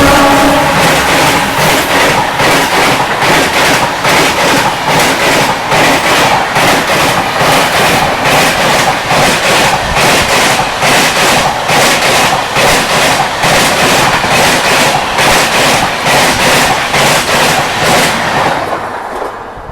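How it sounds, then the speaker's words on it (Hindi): Ahmedabad Shatabdi Express running past on the adjacent track, a loud continuous rumble with steady rhythmic clickety-clack of wheels over rail joints, holding close for the whole stretch and then tailing off as the last coaches clear. "तो ये निकली अहमदाबाद शताब्दी एक्सप्रेस"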